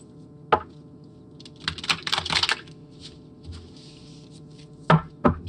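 A deck of playing cards shuffled by hand: a sharp tap, then a burst of quick riffling flutters in the middle, followed later by two firm knocks of the deck squared on a surface, close and clear without speech.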